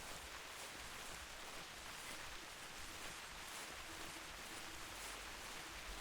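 Steady rain falling in the hunting video game theHunter: Classic, a faint, even hiss of drops across an open field with no voices or other sounds.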